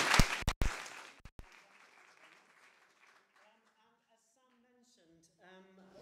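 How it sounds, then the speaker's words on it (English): An audience at an early-years and KS1 teaching talk gives Sam a short burst of loud claps that quickly dies away, leaving near silence before a voice speaks quietly. "Round of applause for Sam."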